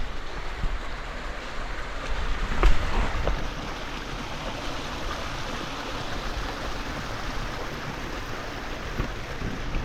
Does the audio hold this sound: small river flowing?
yes